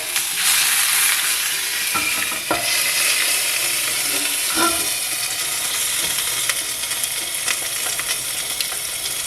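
Pork chop fat crisping in a lidded pan, a continuous close sizzle with a few sharp pops and utensil knocks throughout, no voices.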